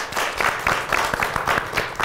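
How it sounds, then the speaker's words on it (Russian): A television talk show audience claps continuously, giving dense, moderately loud applause with a steady rhythm and no voices heard over it. "Аплодисменты."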